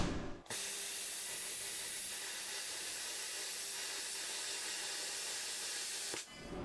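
A SSIMDER SD4050Pro plasma cutter gives a steady, loud, broadband hiss that starts abruptly, holds evenly for nearly six seconds, then cuts off, with no voices.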